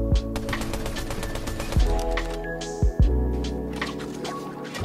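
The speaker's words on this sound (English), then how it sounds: "But I had that crazy full auto shotgun, so didn't stand a chance." Rapid bursts of full-auto shotgun fire from the Fortnite video game sound alongside game effects and a low hum, with a few sharper close blasts standing out and no voice heard.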